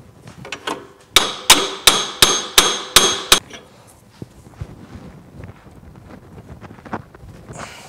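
Puller being worked on a Polaris 900 crankshaft, heard as a close, loud series of seven evenly spaced sharp metallic hammer-like strikes, followed by quieter scattered taps and clatter.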